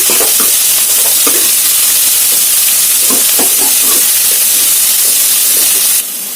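Sliced okra and onions fry in a pan with a loud, steady sizzle and hiss, while a ladle stirs them in intermittent scraping clatters until the sound drops away at the end.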